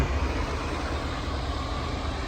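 MTZ 82 and MTZ 892 tractors ploughing a field after disking, a steady broadband engine drone that runs continuously and fairly loud with no break or talk.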